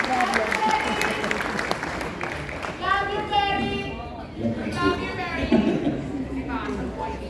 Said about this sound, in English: Let's give another round of applause, please, to all the finalists